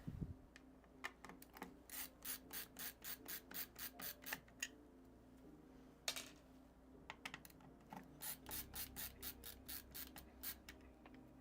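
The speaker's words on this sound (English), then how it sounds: "we can finally get our screwdriver out" A screwdriver works screws during a PC build with an RTX 5060 Ti 16GB graphics card, giving close, steady bursts of rapid ratcheting clicks and scraping, with a brief pause in the middle before the clicking resumes.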